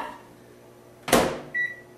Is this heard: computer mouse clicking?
no